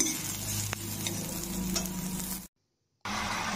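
Soybean chunks fry in a pan for a vegetarian mixed-vegetable dish, giving a steady close sizzle with stirring scrapes, then a brief silence before the frying resumes.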